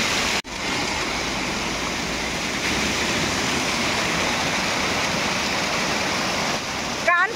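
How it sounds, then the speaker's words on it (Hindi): Clear mountain waterfall water pours in a steady, loud broadband rush from start to finish, beside a trail on the way to Kedarnath, with a brief gap near the start and a faint voice at the very end. "इधर झरने का पानी आप देख सकते हो बहुत ही साफ है"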